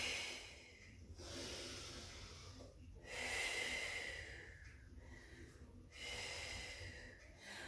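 Deep, audible breaths during a home exercise routine: alternating exhales and inhales in a steady repeating cycle of long airy rushes, close to the microphone, with no talking.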